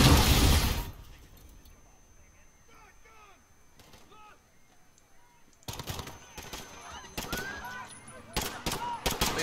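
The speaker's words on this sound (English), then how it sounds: "Wait, who's shooting?" Bursts of gunfire and explosions in Call of Duty: Modern Warfare at a Piccadilly Circus scene, quiet at first with faint chirps, then loud repeated shots and impacts building toward the end, with voices talking over parts of it.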